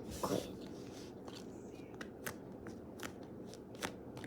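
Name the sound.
squishy toy being handled during unboxing, ASMR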